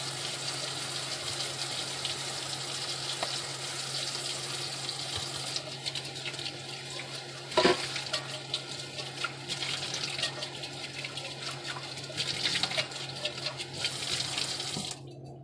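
Running tap water splashes steadily into a pot being rinsed in a kitchen sink, close and even throughout, with a sharp knock of the pot midway and faint clatter as it is moved about.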